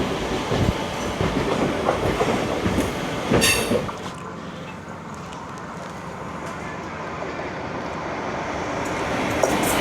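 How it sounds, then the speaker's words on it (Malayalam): Ananthapuri Express pulling into Parassala station, a loud rolling rumble of wagons with wheel clatter and squeal that drops to a quieter steady rail noise after a few seconds. "അനന്തപുരി എക്സ്പ്രസ് പാറശാലയിലേക്ക് കയറി വരുവാണ്"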